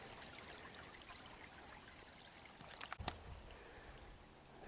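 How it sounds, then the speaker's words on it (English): Shallow creek water flowing past ice along its banks, a steady soft trickling wash with a couple of brief splashy knocks near the end, no voices. "The creek takes a turn here and gets a little bit deeper and slower."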